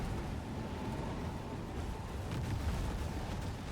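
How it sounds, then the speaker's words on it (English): Dense, rumbling blasts and low booms from the racing video game Ascent Rivals roll continuously, with a heavier burst partway through, mixed under a steady roar. "The explosions and killings happening there."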